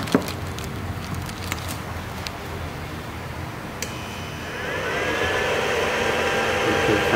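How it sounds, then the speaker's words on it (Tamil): The cooling fan of an Okaya Faast F4 electric scooter's fast charger spins up partway through, building into a steady, loud whirring drone after a few faint clicks. "ஓகே, ஃபேன் ஸ்டார்ட் ஆகிடுச்சு."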